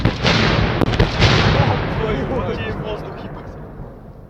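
A TNT charge detonates during military training, a loud close blast with a rumbling roar that fades away over a few seconds. Voices are heard during the decay.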